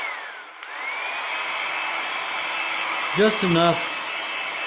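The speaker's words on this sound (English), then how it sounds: "I'll just blow dry this with a hair dryer" A handheld hair dryer blows steadily to dry something wet, a loud, close, even whoosh that runs throughout while a voice briefly speaks near the end.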